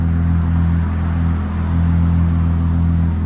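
A 2022 Jeep Grand Cherokee Trailhawk with a 3.6L V6 and straight pipes idling, a loud, deep, steady low rumble with a slight dip midway and no talking.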